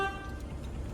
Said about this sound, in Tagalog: Yan yung busina niya mga boss.